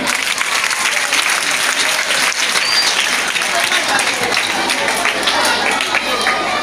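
An audience at a school launch event in Kinshasa gives dense, loud, sustained applause that holds steady for several seconds, with crowd voices mixed into the clapping.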